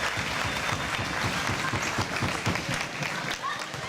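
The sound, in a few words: audience applause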